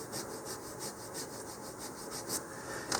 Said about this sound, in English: And just start sanding it down.